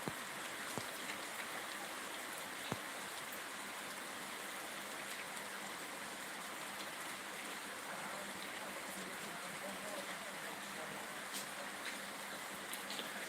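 Continuous rain patters over fields in Solapur district, a constant wide hiss with a few distinct drips and taps standing out, steady and unbroken without speech.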